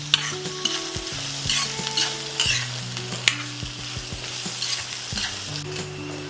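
Sliced large onion fries in a pan for Kerala-style panikaram, stirred with a spoon. Steady close sizzling is broken by frequent scraping and clinking stirring strokes, and no one speaks.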